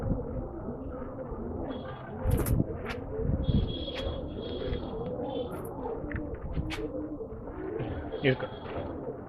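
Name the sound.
pigeons cooing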